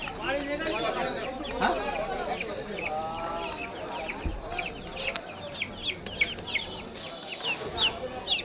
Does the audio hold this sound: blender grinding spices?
no